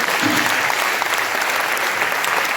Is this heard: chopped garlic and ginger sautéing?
no